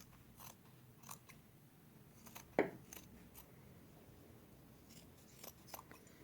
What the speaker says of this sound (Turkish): Şimdi şuradan kesip çıkaralım paçaları